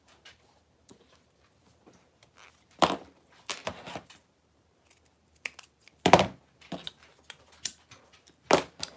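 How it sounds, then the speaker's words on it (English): Small metal clicks and taps from a zipper pull being fitted onto a sewn bag, scattered in short bursts with quiet gaps between them, close and fairly soft. "we need to add our zipper pull"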